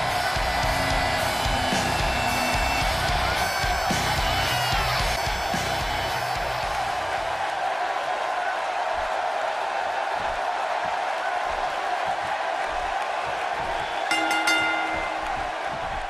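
A large arena crowd at a WWE 2K wrestling event keeps up a steady roar of cheering and noise throughout, with no talk over it.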